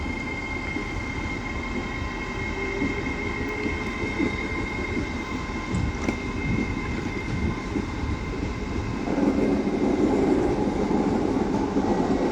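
An LNER Azuma train pulls out of Doncaster station, a loud steady rumble of wheels and traction that swells slightly toward the end, heard close and with no voices.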